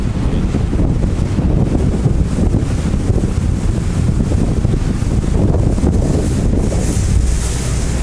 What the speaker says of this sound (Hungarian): kegyetlenül leviszi a búrámot a szél, hallod?